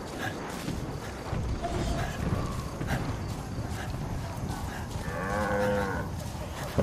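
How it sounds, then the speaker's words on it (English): Cattle lowing in Far Cry 5, a deep moo drawn out near the end over steady game ambience and scattered footstep-like clops. "Yeah, it's a cow, right?"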